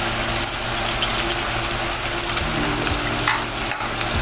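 Chopped onions and ginger sizzle loudly in hot oil in a pan for arroz caldo, a dense, steady frying hiss close by with slight stirring shifts and no talking.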